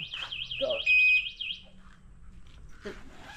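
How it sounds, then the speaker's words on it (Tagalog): A loud Red Star electric bike security alarm warbles up and down rapidly, then holds a steady beep before cutting off, with brief voices after. "Nag-alarm na yung motor niya."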